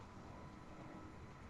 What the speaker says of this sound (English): Sorry if you can hear that train in the background